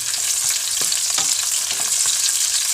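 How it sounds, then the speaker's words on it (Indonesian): Chilies stir-fry in a pan with a steady close sizzle, broken by light scraping taps from a utensil moving them around. "sekarang Mak Yati masukkan cabai, tumis juga cabainya sampai dia layu"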